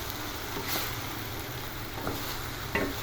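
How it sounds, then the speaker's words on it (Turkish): Chicken, vegetables and tomatoes fry in a pan with a steady, close sizzle, broken by a few scraping stirs and light clinks. "domatesleri ilave ediyorum. 10 dakikada böyle kavuracağım"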